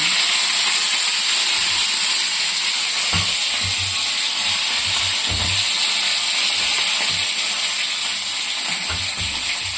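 Mustard seeds, urad dal, cumin and curry leaves sizzling in hot oil as a tempering for coconut chutney, a loud, steady frying hiss with faint pops and stirring thumps, close by and with no talk.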